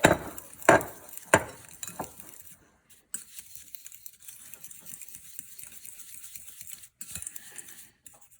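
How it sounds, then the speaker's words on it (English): A fork or whisk stirring a lactose-free cheesecake mixture, a few sharp clinks against the dish at the start, then quieter, sparse tapping and scraping with gaps of near silence. "you just want to get a little fork or a whisk and just stir it up"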